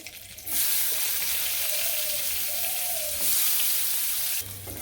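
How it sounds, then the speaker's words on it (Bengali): Chopped onion drops into hot oil with cumin and sizzles loudly and steadily, a close, continuous frying hiss with a brief burst of stirring, then a sudden stop. "তেল দিয়ে দিছি তেলের মধ্যে জিরাও দিয়ে দিচ্ছি এখন পেঁয়াজ কুচি দিয়ে দিই"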